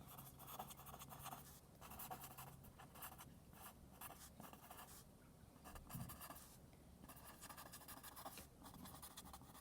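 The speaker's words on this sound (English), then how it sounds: "my pencil's noisy" Steady scratchy pencil strokes on paper, close up and continuous, with short bursts of quicker scribbling and no talking.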